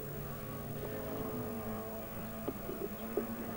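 Mini 7 race cars from 1987 run together at Lydden circuit, a steady layered engine drone with buzzing harmonics and a few brief surges as cars pass close, with no talking.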